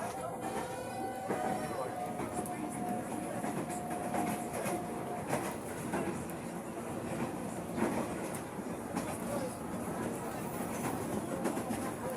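Indonesian KRL commuter train running between Bogor and Manggarai, heard from inside as a steady rumble and rattling clatter of wheels on track, with a long squeal partway through and faint voices under it.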